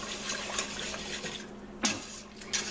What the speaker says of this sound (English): let this come up to a boil, and that's how you can tell how thick it's going to be once it reaches the boil. and you want to keep whisking